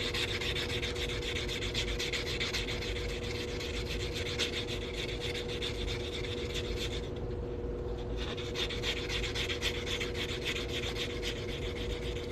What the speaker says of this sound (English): I do this with nail file blocks so I can get the edge of this center punch